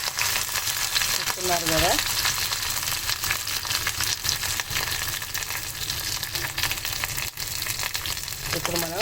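Garlic sizzles and crackles steadily in hot oil for a Telugu tomato-chili pachadi, a continuous close frying hiss with brief stirring scrapes, while someone speaks briefly over it.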